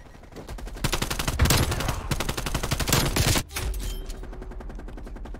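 Rapid automatic gunfire in Call of Duty Black Ops Cold War, a loud continuous stream of close shots broken by a brief pause, then lighter bursts with a faint tonal hum.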